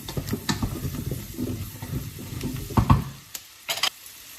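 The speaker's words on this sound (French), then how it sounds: "On ajoute la patate douce. On brasse." A spoon stirring sweet potato chunks into browned onions in a pot for a coconut curry soup, with scraping, clattering strokes over a soft sizzle and a few sharper knocks against the pot near the end.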